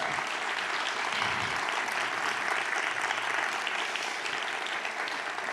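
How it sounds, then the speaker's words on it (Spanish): A church congregation applauds during a sermon, a dense, steady burst of many hands clapping that holds at an even level from start to finish, with no speech over it. "¿Puedes darle un aplauso a la palabra, por favor?"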